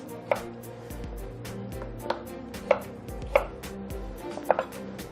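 A knife chops a turnip into similar-sized pieces on a cutting board, five crisp separate cuts spaced about a second apart, close up, with no talking.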